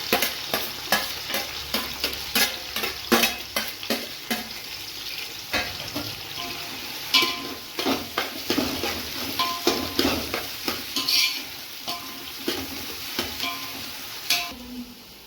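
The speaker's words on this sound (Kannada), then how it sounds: "ನೋಡಿ ಮೆಣಸಿನ್ಕಾಯಿ ಫ್ರೈ ಆಗಿದೆ ಈಗ ನಾನು ಕಟ್ ಮಾಡಿರೋ ಈರುಳ್ಳಿನ ಹಾಕ್ಕೊತಾ ಇದ್ದೀನಿ" Sliced onions and green chillies frying for chicken biryani, a steady sizzle broken by repeated scraping stirs of a spoon in the pan, close and fairly loud, with no talking.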